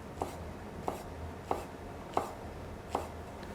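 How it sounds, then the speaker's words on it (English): Knife slicing rolled eggplant into thin julienne strips on a cutting board, five evenly spaced sharp chops, close and clear over a faint background hum. "And then cut those thin slices from there."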